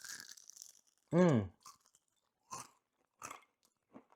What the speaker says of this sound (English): You hear a crunch.